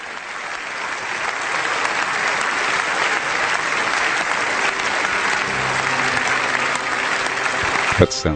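Sustained, loud applause from the German parliament for Pope Benedict XVI, a dense even roar of clapping that carries on for several seconds before a voice cuts in at the very end.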